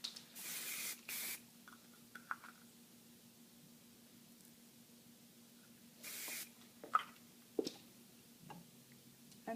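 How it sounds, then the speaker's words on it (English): Hairspray mists over an updo hairstyle in two short, soft hissing bursts, several seconds apart, with small handling ticks in a quiet room. "We're going to finish off with some hairspray."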